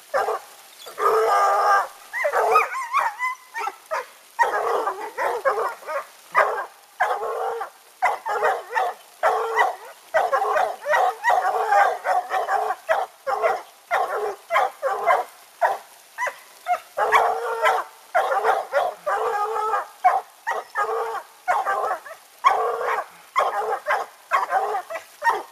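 Coonhounds bark steadily at a raccoon up a tree in heavy rain, loud repeated bays and barks with short gaps between them, continuing without pause.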